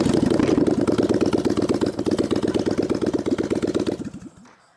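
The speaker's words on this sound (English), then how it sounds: "we're gonna start it up without anything. No exhaust." A Honda Fury motorcycle engine with no exhaust fitted runs loud and raw with a rapid, bubbling pulse, then cuts off abruptly near the end.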